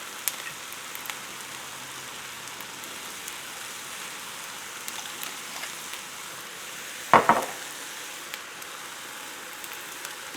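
Sweet potato greens sizzle and steam under a lid in a covered pan, a steady soft hiss throughout with one sharp clatter partway through.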